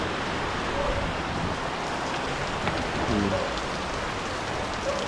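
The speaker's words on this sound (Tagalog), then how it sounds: "Grabe, lakas ng ulan, dilim na dilim." Heavy rain pours down steadily, a dense, continuous roar of drops hitting surfaces with no pauses, close and loud throughout.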